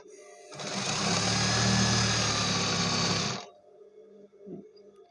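A sewing machine stitching elastic onto fabric during a clothing repair runs in one continuous loud burst for about three seconds, a close whirring hum, then stops, leaving quiet room tone and a faint thump.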